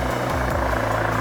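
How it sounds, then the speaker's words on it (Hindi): A helicopter approaching to land at the Kedarnath helipad, its steady rotor and engine drone loud and continuous, with a low throbbing beat underneath. "अभी हेलीकॉप्टर हेलीपैड पर लैंड करने वाला है।"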